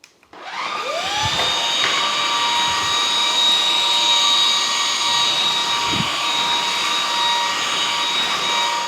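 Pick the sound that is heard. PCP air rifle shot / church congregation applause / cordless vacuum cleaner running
cordless vacuum cleaner running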